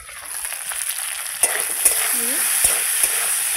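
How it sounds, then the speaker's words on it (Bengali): Steady frying sizzle of taro pieces in a hot pan, with a few sharp clinks and stirring scrapes scattered through. "গাটি কচুগুলো ভাজা ভাজা হচ্ছে"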